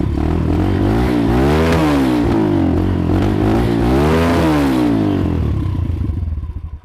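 A Kayo TT140 dirt bike running lean, its engine loud and close with an uneven, poppy, crackling exhaust as it revs up and down twice before the throttle drops and it settles into a rough idle.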